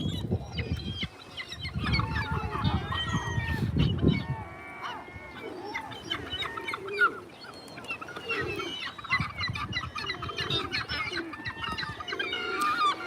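Squawking seagulls among water birds such as ducks and pigeons, a busy stream of harsh calls and honks with low flapping and splashing noise, fairly close and continuous.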